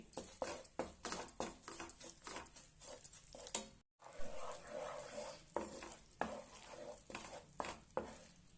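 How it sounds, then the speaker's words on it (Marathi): Ladle stirring roasted chana daal chikki sugar syrup in a pan, a quiet run of repeated scraping strokes with a steady rhythm and a brief pause partway through, no talk. "छानपैकी आपण असं पळी याच्यात फिरवत राहायची।"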